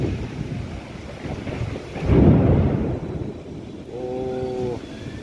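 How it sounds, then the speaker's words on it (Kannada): Heavy thunder rolls over steady rain, a deep swelling rumble peaking midway against continuous hiss and wind buffeting on the microphone, with a brief tonal sound near the end. "ಫುಲ್ ಹೆವಿ ಗುಡುಗು ಸಿಡ್ಲ ಮಿಂಚ."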